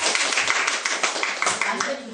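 Small group clapping in a casual indoor setting, a quick burst of scattered hand claps that overlaps chatty voices throughout.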